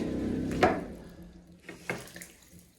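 Water drips and splashes from a poorly sealed pre-filter on a maple sap filtration unit, one sharp splash followed by a few softer drips and trickles nearby.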